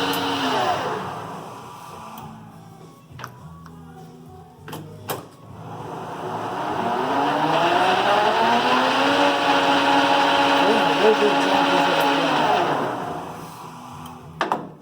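A Clausing Colchester 12 lathe's geared headstock runs with a smooth, fairly quiet mechanical whir that swells up and holds steady, with a couple of faint clicks near the start.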